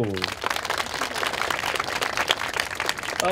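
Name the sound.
audience applause for alumni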